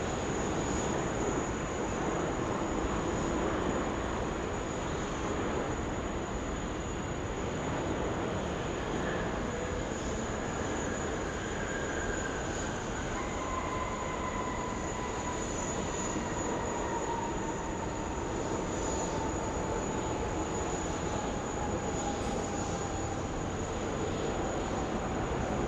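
A Rex aircraft takes off from runway 16 left at Sydney Airport, a loud, steady engine roar with a broad, continuous rumble and a slowly shifting high whine over about 26 seconds, with no voices.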